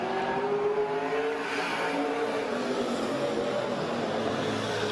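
Race cars, among them the 44 Chevrolet, roar into turn one at speed, with a dense, continuous engine drone and shifting revs rising and falling, loud and close throughout.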